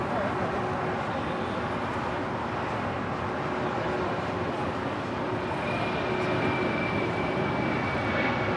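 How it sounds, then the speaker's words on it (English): United Airlines Boeing 737-900ER departing LAX for Houston, a steady, fairly distant jet engine roar with a thin whine running through it, continuous and even. "This is United Airlines Flight 644 departing to Houston Intercontinental"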